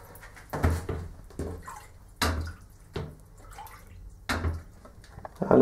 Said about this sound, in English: Back into the water just to wash it off.